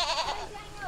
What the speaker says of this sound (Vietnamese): Dê này là dê ta.